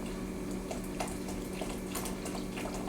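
Beef broth being poured into a pan of gravy for steak, a soft, steady trickle of liquid running continuously at close range and fairly quiet, with no talking.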